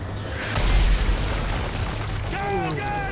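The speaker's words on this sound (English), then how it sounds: "Mortar incoming." Mortar shells exploding in Call of Duty: Modern Warfare 3, a loud low boom swelling near the start amid ongoing battle noise, with a voice speaking over the rumble later.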